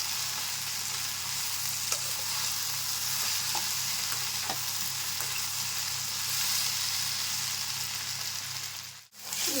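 Okra and onions frying in a pan, an even close sizzle with occasional spatula scrapes and stirring, a low hum underneath and a brief dip near the end, no talk.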